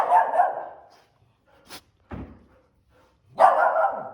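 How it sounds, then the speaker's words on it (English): Dogs bark in loud, close bursts, with two barks at the start, a few short yips in between and another bark near the end, in a quiet room where an inflatable Sevylor Fiji kayak is being patched. "my dogs are gonna go nuts"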